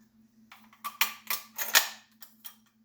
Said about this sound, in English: You just flip this little detent, all the ammunition falls out.